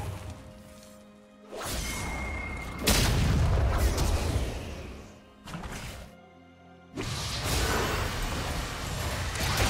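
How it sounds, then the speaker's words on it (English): A turret is destroyed in League of Legends, heard as a run of heavy booms, crashes and whooshing blasts in loud bursts separated by brief quieter gaps. "Blue team's turret has been destroyed."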